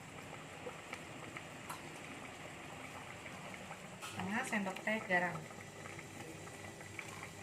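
Lu rou fan sauce boils in a pot, a soft steady bubbling under someone speaking, with a brief louder burst of clattering or stirring midway.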